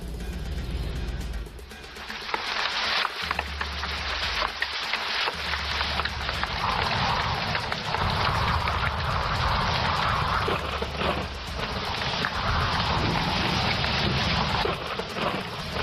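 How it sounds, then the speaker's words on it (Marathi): Heavy rain falling steadily, a dense continuous hiss of downpour with low rumbling gusts, loud and unbroken throughout, with no talking. "पाऊस काही थांबायचं नाव घेत नाहीये."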